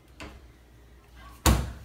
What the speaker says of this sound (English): Let's try closing the door.